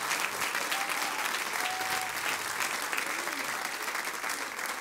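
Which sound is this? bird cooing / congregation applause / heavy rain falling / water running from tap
congregation applause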